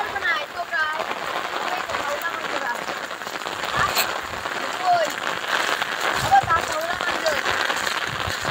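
Heavy rain pours steadily on an open laterite plateau in the Konkan, a dense, even hiss of drops close by with occasional louder splats.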